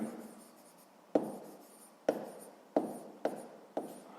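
Pen strokes of a math solution being written out by hand on paper, a soft continuous scratching broken by about six sharper taps or stroke onsets, close and quiet with no talking.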